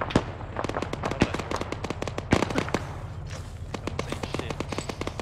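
Repeated sharp blasts and pops in ArmA 3 combat, with several loud reports early and a dense crackle of bursts continuing throughout, like explosions and gunfire going off nearby.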